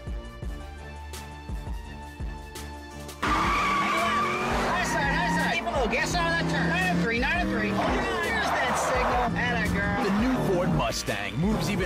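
A Ford Mustang GT from the 1999–2004 New Edge generation drives hard with loud, sustained tire squeal and skidding under a roaring engine, following a quieter stretch in the first few seconds; a voice talks over it.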